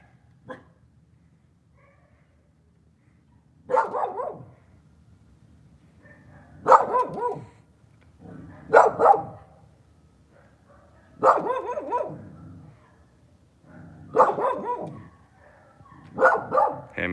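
A corgi named Hammy barks at the neighbors in six separate bursts spaced a few seconds apart. Each burst holds a quick cluster of loud, close barks, with quiet pauses in between.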